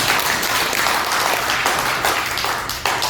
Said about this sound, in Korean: 박수를 좀 보내주십시오.